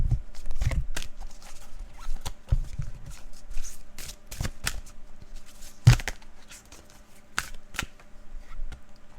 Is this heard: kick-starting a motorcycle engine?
no